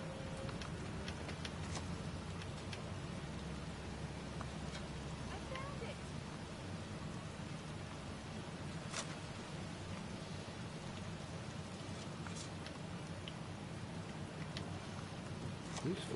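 Pouring rain falls steadily over a cemetery in the video game Heavy Rain, a constant dense hiss with scattered drop ticks and low rumbling, faint and continuous throughout.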